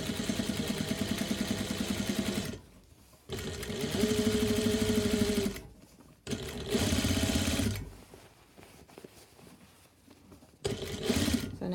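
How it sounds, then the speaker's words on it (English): A sewing machine stitches a shirt collar and collar band with black thread in rapid whirring bursts, running a few seconds at a time with brief pauses between runs, close and clear. "I'm using black thread so you can see"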